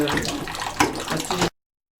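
Water splashes and pours steadily while a child is rinsed during a bath, close and continuous for a moment before cutting off abruptly.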